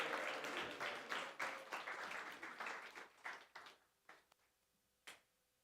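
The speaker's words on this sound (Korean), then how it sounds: "우리 다시 한번 우리 아이들에게 큰 박수 한번 보내주시면 감사하겠습니다" A church congregation claps for the children, a dense burst of applause that gradually thins into scattered individual claps and fades out, with a single late clap near the end.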